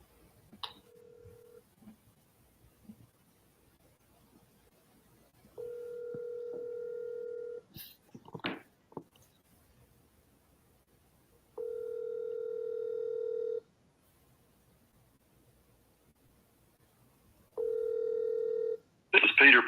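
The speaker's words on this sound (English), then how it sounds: "Peter, you want to go ahead and try to call your broker, see who we can get on the phone first" Telephone ringback tones from a call placed to a broker: steady two-second ring bursts repeating about every four to five seconds, fairly loud and clear, with a few brief clicks and faint voices between rings.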